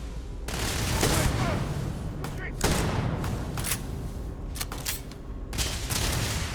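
Gunfire rings out in the video game Starfield, a dense run of heavy shots and booming bursts with short gaps between volleys, loud and close, with a voice talking now and then.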